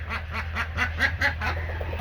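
Several ducks quack in quick, repeated bursts as they scurry off, close and fairly loud, a rapid run of overlapping calls with no speech over them.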